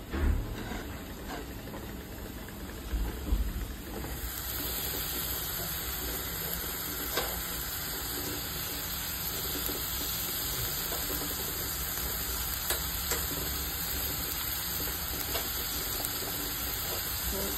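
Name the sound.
tomatoes sizzling as they fry in a pan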